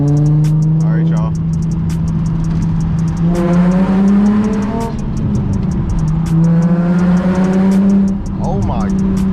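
Car with a Megan Racing single exit exhaust and Berk test pipes revving hard, loud rasping pulls rising and dropping with pops between them, close by, with people talking over it.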